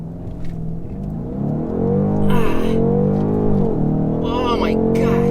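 Launch of a 2019 BMW M850i, its engine rising from a low rumble to a loud, deep roar with sweeping gear-change pitch shifts, heard close from inside the car.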